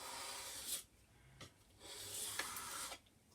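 A knife blade held flat and drawn across a sharpening block, giving a few loud, dry rasping strokes: two long passes and a short one in between, close up and with no talking.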